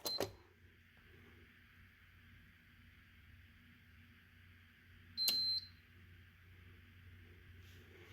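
Fire alarm control panel reset during a system test, with a short electronic beep at the start and another sharp beep midway, over a quiet background hum.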